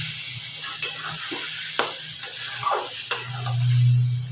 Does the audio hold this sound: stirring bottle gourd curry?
yes